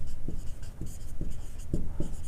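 Pencil writing on paper while working a math problem, soft repeated scratching strokes and taps at an irregular rhythm, close and quiet.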